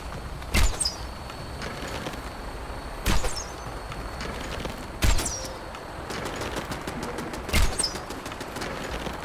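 Base turrets in Fallout 76 firing at hostile creatures: four loud, widely spaced bursts of gunfire ring out over a busy outdoor game ambience with bird-like chirps, and no voices.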